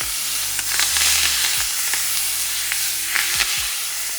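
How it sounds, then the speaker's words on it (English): Duck breast sizzling loudly in a hot frying pan, a steady close hiss with a few soft clinks and scrapes, and no voices. "I'm going to cook now the other side for 3, maybe 4 minutes."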